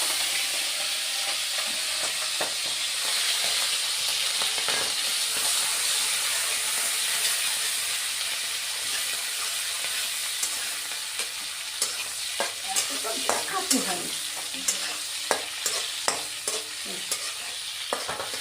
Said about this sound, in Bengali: আমি এখন চিংড়ি মাছগুলো একটু ভেজে নিচ্ছি।